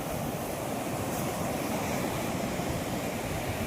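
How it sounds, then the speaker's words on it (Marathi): Foaming waves of the Bay of Bengal near Vattakottai Fort, a continuous loud wash of surf rolling in without pause, with some wind noise and no voices. "हा समुद्र हा फेसाळता समुद्र बंगालचा उपसागर"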